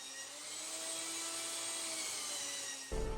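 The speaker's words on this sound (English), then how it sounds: "I attempted to finish the shaping of the chine bottom rail and some of the frames with the belt sander" A belt sander shapes the wooden chine bottom rail and frames of a boat, a continuous high whining drone with steady tonal lines that cuts off abruptly near the end.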